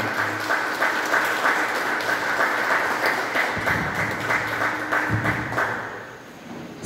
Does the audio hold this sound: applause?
yes